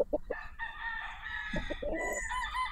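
A White Kelso gamecock rooster crows in a long drawn-out call, ending in a second rising note, with a few short clucks before and during the crow.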